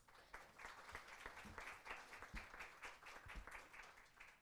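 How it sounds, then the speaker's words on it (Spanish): Colleagues in a conference room audience give brief, fairly faint applause, scattered irregular claps rather than a dense ovation. "Me junto a los aplausos de los y las colegas que están aquí"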